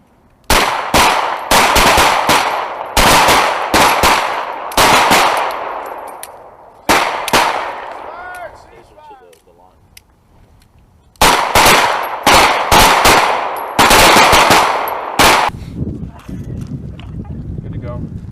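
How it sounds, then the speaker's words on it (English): M9 pistols fired live on a US Marine qualification range: loud, sharp shots crack in rapid, irregular strings, pause for several seconds of quieter range ambience, then resume in another dense volley, with voices in between. "then when I say target, you are clear to fire"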